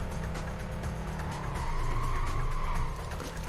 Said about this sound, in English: Power braking every turn is not helping me get anywhere either.